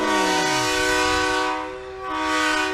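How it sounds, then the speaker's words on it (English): A loud, sustained truck air horn blares from Stephen McCandless Trucking's rig in a Christmas parade on Main Street, a brassy multi-tone blast that dips briefly near the middle, then swells again. "The kid said, honk it, and he did."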